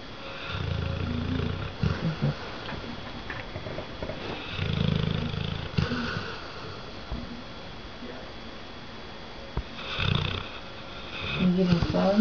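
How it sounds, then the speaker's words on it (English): A red nose pitbull / American bulldog mix snores loudly, with deep rumbling snores coming in slow, irregular bursts up close and soft background noise between them. "He snores loud."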